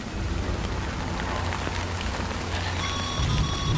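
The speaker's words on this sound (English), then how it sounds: "Good thing it was raining." Steady rain falls in the video game Death Stranding, a dense continuous hiss of drops on surfaces with no voices, holding constant throughout with a brief tonal shimmer near the end.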